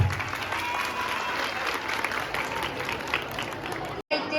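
A school audience at the food fest inauguration of BYKVHSS Valavannur claps in a sustained, dense burst of applause that fills the room, then cuts off sharply just before the end.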